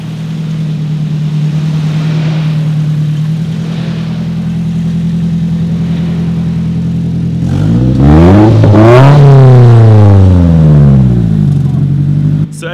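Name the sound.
car engines idling and revving at car meet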